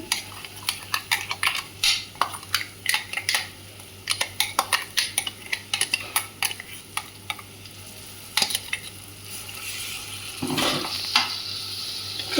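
A spoon stirring masala paste in a pan for dondakai (ivy gourd) curry, with repeated scraping and clinking strokes in uneven bursts over a soft sizzle, then a louder frying hiss near the end.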